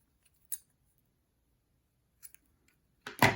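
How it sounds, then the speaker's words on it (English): Scissors snipping crochet yarn, a few short crisp cuts separated by silence, close and quiet, ending in a louder rustling snip. "We're going to take the string and we're going to cut it."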